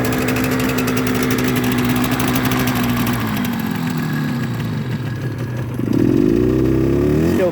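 A cold Suzuki GT125L motorcycle engine idles steadily with a buzzy, lumpy throb, rising slightly in pitch and loudness near the end as the revs pick up.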